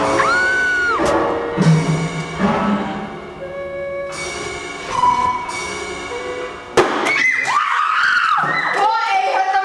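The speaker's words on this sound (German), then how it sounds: "hört doch mal auf zu schreien!" Children scream and shout in a loud, crowded indoor scene. High, shrill voices overlap continuously, with a sharp burst partway through and piercing cries carrying on to the end.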